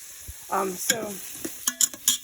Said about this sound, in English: right now we're just sauteing, and the butter's a little burnt